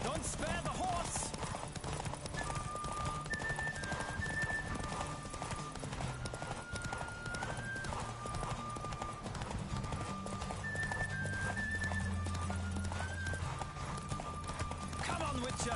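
Horse galloping in a race in the video game Witcher 3, steady rapid hoofbeats throughout over continuous game sound, with a voice shouting encouragement at points.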